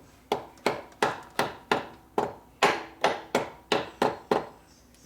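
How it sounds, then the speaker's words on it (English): Twelve sharp metallic hammer blows struck at a steady rhythm on the end of a Harley-Davidson five-speed transmission main shaft, each ringing briefly before the next, close and loud. "it's called a hammer. You beat on the end of the main shaft,"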